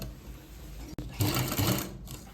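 A sewing machine stitching a shirt collar lined with buckram starts up after a brief pause, then runs in a fast, steady mechanical whir, close and clear.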